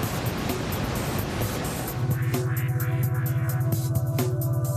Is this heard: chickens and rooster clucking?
no